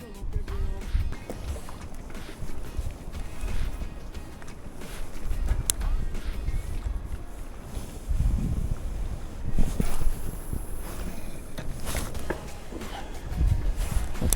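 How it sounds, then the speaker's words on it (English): Gusty wind buffets the microphone at a reservoir during a fishing match, a steady rumbling roar that swells and eases for the whole stretch, with faint knocks of handling. "Tricky casting into that wind"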